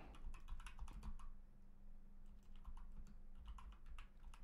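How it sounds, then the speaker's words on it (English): Rapid clicking of a computer keyboard, steady close keystrokes in quick bursts with a short lull midway, faint and without talk. "I'll type that fast."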